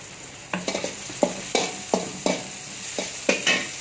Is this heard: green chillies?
yes